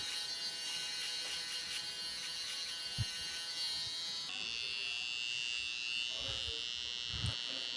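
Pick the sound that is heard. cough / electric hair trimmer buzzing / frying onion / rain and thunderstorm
electric hair trimmer buzzing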